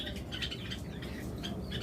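Caged pet birds kept in pairs at a bird seller's chirp in quick, bright bursts that repeat several times, close and fairly clear over a low background hum, with no talking.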